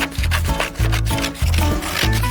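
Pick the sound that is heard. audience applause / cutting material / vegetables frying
cutting material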